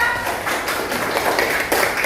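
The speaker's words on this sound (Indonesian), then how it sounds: "silakan Sonda untuk kembali beri tepuk tangan kepada Sonda" A classroom of students claps in dense, steady applause, a close, busy patter of many hands that fills the short stretch without pause.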